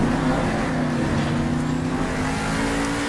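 A Monster Jam monster truck races around an arena track, its big engine producing a loud, steady, close roar that holds constant through the short stretch with no break.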